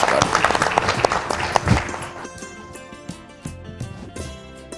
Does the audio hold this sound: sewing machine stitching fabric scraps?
no